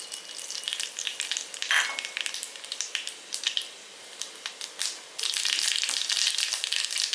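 Mustard seeds crackle and pop in hot oil for rava idli, a busy sizzle with sharp little bursts that grows denser toward the end.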